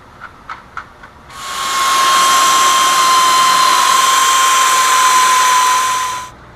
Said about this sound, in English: And then take the air ratchet,